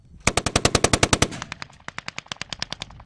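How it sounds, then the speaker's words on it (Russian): Loud machine-gun fire rings out during military platoon live-fire training exercises. One rapid, evenly spaced burst of about a dozen shots is followed by a second, slightly fainter burst, with no voices over it. "на него обрушивается шквал огня"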